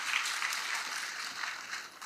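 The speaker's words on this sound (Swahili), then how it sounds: "Tujifikie makofi." A crowd applauding at a public security meeting in Siaya County, a dense, steady wash of many hands clapping for about two seconds.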